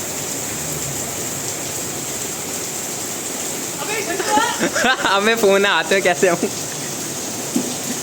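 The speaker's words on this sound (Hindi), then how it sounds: "भाई बारिश हो रही है, तो ये तो भीग गया।" Rain falling outdoors as a steady, soft hiss throughout, with someone speaking briefly over it partway through.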